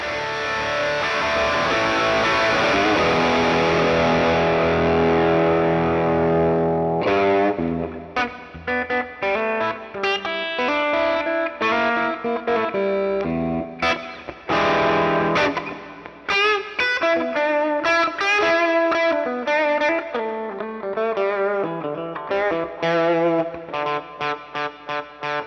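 A single pickup electric guitar through distortion and effects, first a long sustained chord ringing out, then a run of choppy, biting riffs and staccato notes, loud and up front with no talking.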